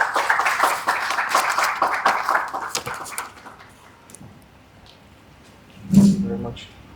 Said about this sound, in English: Can we give him a round of applause as he comes?